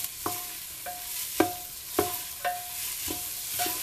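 Onion sautés in a pan for dobradinha with a soft, continuous sizzle. A spoon scrapes and taps the pan in regular strokes roughly every half second, with no talking.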